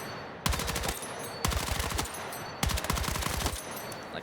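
Tap-fired gun in Battlefield 6 on a target range, heard as three quick bursts of rapid, sharp shots, each burst about a second long with short pauses between, loud and close.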